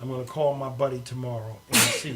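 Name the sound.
sneeze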